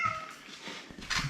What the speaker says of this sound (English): we got that annoying cat that won't shut the hell up